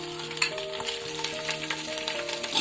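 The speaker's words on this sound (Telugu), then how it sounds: "2 స్పూన్లు అల్లం వెల్లుల్లి పేస్ట్ ఎర్రగా వేగాలి" Ginger garlic paste and whole green chillies fry in a pan for chicken biryani, giving a steady close sizzle with scattered stirring scrapes over a low constant hum; no voices.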